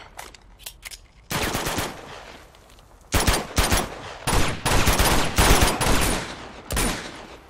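Rapid gunfire in Uncharted 2: Among Thieves, loud automatic bursts stacked in dense volleys with brief gaps between them, close and forceful, no talk over it.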